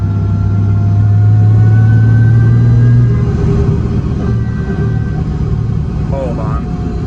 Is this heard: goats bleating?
no